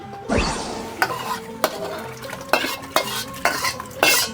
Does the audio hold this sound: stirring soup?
yes